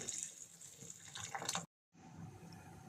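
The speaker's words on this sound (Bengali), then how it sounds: "এখন আমি পরিমাণ মতো জল দিয়ে দিচ্ছি" Water is poured into a pot of koi fish being cooked with mustard oil and green chilli, a close splashing gush that cuts off abruptly, then a softer trickle resumes briefly.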